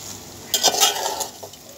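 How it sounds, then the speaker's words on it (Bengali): Pasta ingredients, sweetened with a little sugar, are tipped back into a wok and stirred, producing a short burst of clattering, scraping and sizzling after a quiet start. "এখন এগুলো সব উপকরণ আমি আবার কড়াইতে ঢেলে দিব।"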